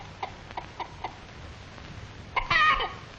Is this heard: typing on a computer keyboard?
no